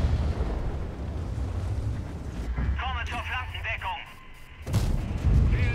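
An enemy tank gun fires in a World of Tanks battle, a heavy booming blast with rumbling tail, followed by clattering, chirping game effects and a second burst near the end, while a player talks over it.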